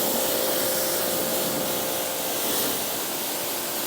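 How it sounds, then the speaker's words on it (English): A water spray hisses continuously and loudly across a minivan's body as it is rinsed, a steady broadband wash with no pauses. "Time to rinse thoroughly, and this mix rinses quickly and easily."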